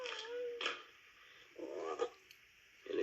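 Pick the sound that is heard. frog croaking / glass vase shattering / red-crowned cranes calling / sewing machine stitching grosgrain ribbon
frog croaking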